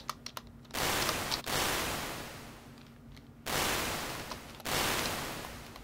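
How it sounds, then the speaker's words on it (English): Bursts of harsh, full-band unfiltered white noise run through convolution reverb, switching on abruptly, then decaying slowly like a reverberant tail, with short clicks between bursts. "let's take a look at what happens if we don't filter the white noise"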